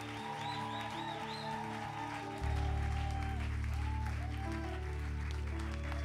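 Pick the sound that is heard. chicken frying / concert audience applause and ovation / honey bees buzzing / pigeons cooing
concert audience applause and ovation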